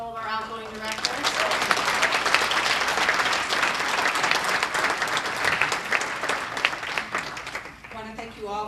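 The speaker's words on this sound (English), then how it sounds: "Just a round of applause for all of our outgoing directors." A banquet-hall audience at a Windsor Chamber of Commerce annual dinner gives sustained, dense applause for outgoing directors. A voice speaks briefly before and after the clapping.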